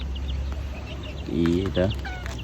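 A few soft hen clucks from a chicken coop in Qatar rise from a steady low background hum, brief and fairly close, with faint bird chirps scattered around.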